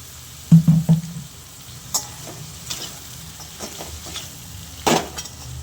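Soya rice with peanuts fries in a pan while being stirred, a low sizzle broken by a few scraping strokes of the spoon near the start and another firm scrape near the end.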